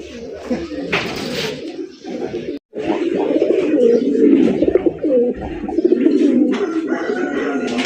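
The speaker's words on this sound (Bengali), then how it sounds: "এটা কিন্তু খুবই প্রচুর পরিমাণে ডাকাডাকি করে" A black pair of Indian Bombay pigeons coos loudly and almost without pause, close by, the throaty calls overlapping with occasional brief chirps.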